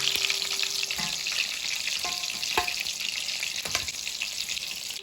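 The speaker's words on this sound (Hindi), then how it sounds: "दोनों साइड से अच्छे से तेल में फ्राई हो चुके हैं" Raw minced-meat kebabs fry in hot oil, giving a steady, close sizzle with occasional crackles and a few soft clinks of a utensil against the pan.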